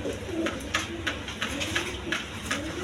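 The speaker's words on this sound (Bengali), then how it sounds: "বন্ধুগণ এখানে এক পেয়ার কবুতর আছে" A pair of pigeons, a Kaldom male and a chuina female, coo in soft low repeated phrases. The calls come close together and stay steady against a faint background hiss.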